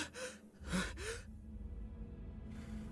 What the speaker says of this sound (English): Sinclair was gasping for air behind him